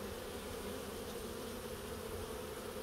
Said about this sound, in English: I'm seeing a lot of bees coming in with some pollen